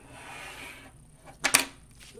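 A prototype knife cutter slicing into vinyl, giving a short, sharp, close scrape-and-snap near the end after quiet handling noise.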